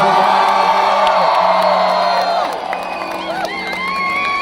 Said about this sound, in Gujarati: તમારા માટે તાળીઓ પાડો